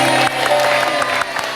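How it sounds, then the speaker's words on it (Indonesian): Brief burst of audience applause from a studio crowd at an Indonesian TV game show, moderately loud and continuous with scattered clapping for under two seconds. "Tepuk tangan dong untuk mereka dong."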